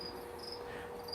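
Crickets kept as live feeder insects near a crested gecko chirp in a steady, faint high trill that runs through the whole stretch, alone without any voices.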